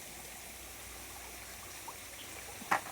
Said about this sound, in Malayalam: മുകളിൽ നിന്ന് വെള്ളം ഒഴുകി വരുന്നുണ്ടോ? അതെല്ലാം ഒഴുകി ഒഴുകി വന്ന് ഇവിടെ ചാടും